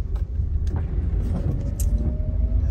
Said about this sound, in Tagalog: Tricycle po.